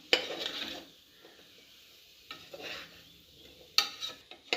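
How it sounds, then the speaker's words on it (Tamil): White chickpeas sauté with masala for chana biryani, with a few quiet bursts of spoon scraping and light sizzle separated by near silence. "ஸோ இந்த மூக்கடலையோடு சேர்ந்து இந்த மசாலாலாம் கூட கொஞ்சம் நல்லா பச்சை வாசனை போகிற அளவுக்கு கொஞ்சம் லேசாக 1 or 2 minutes நம்ம வந்து வதக்கிக்கலாம்"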